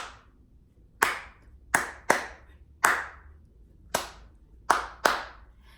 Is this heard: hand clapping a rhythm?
yes